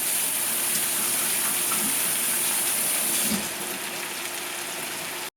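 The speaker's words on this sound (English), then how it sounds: "Let me give my hands a quick wash." Hands are washed under a steady stream of running tap water in a kitchen while cooking with cod and tomatoes, a constant close splashing hiss that drops slightly in level near the end before cutting off.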